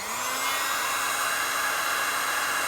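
A heat gun blows steadily against a VW Transporter T5 van body panel during bodywork repair, a loud continuous hiss-like roar with a rising whine that holds evenly throughout, with no talking.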